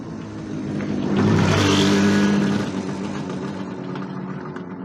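A loud motor vehicle, a motorcycle, passes by in a village street, swelling to a peak then fading, with a steady engine tone and no talking.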